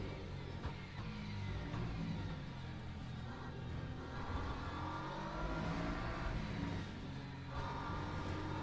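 Race car engine from the Le Mans Ultimate sim racing game at the Imola circuit, a steady, continuous engine drone that holds close and loud for the whole stretch, with no talk over it.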